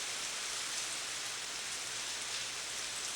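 Monsoon maha rain falls steadily over paddy lands, a dense, even hiss of heavy rainfall with no breaks, close and moderately loud, with no voices.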